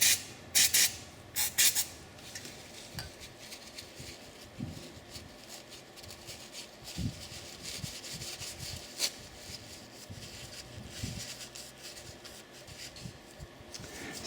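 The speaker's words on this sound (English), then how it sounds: "give the whole thing a quick blast with the brake cleaner" Brake cleaner sprayed onto rear brake parts during a rotor and pad change: a few sharp, loud hissing blasts at the start, followed by quieter scraping and rubbing with no talking.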